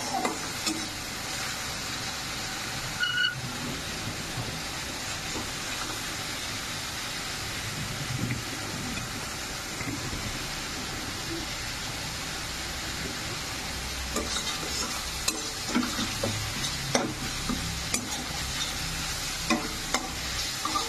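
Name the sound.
masala with turmeric and Kashmiri chili frying, stirred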